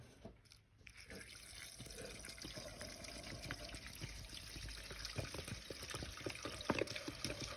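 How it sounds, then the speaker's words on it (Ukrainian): Petrol trickles from a container into the tank of an MT/Dnepr motorcycle, a faint steady splashing and dripping pour that runs continuously after a short pause at the start. "заливаємо МТшечку. Літру для запуска"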